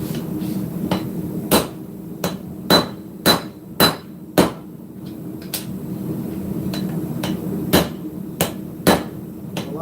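Hammer blows ringing on hot metal at a forge, about a dozen sharp strikes in irregular bursts, several clustered in quick succession, heard close over a steady low background hum.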